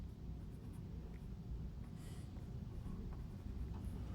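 Pen or pencil writing by hand on a drawing of a footing section with post anchor and rebar, a faint steady scratching close by over low room noise.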